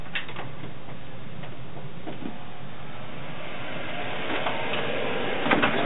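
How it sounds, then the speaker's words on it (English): Steady whirring hum of a food dehydrator drying cilantro leaves and stems, close and continuous, with faint ticking and a few clicks near the end and no voices. "We want to go ahead and turn on our dehydrator"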